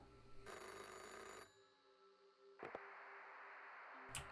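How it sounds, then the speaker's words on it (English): Telephone ringing in the horror game VHS 1986, an electronic ring burst of about a second, followed after a pause by short clicks and a brief tone, faint and near. "I got a phone call."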